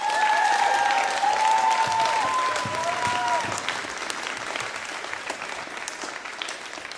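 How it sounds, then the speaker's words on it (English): A wrestling crowd at an XWA event gives a full round of applause, dense and loud at first and tapering slightly, with cheering and whistles mixed in near the start. "Let's give them a round of applause too."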